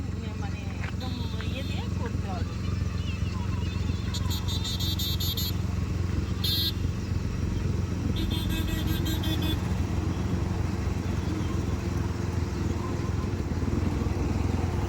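A car moves off in first gear during a driving lesson, with a low, steady engine rumble running throughout and a few brief higher chirps over it.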